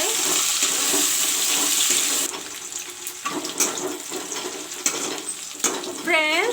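Onions fry in a pan with a loud hiss at first that settles into a crackling sizzle, broken by a few knocks and stirs of a utensil against the pan, near and clear.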